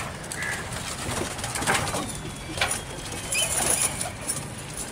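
Soft Kabuli pigeon coos repeat over a steady outdoor background, with faint rustles and occasional flutters nearby.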